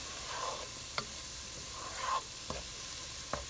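Onions cooking in a pan on medium-high heat for a frittata give a quiet, soft sizzle, broken by a few sharp clicks and scrapes of a utensil against the pan.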